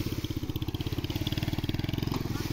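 A motorcycle engine runs close by with a fast, steady pulsing idle that throbs loudly and evenly throughout, a rough mechanical clatter riding on top.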